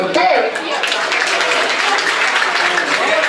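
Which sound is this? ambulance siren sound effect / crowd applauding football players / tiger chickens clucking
crowd applauding football players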